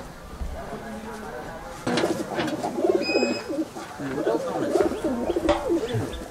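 Pigeons coo in a loft in Murshidabad, their soft repeated calls close by and overlapping, with people talking over them throughout.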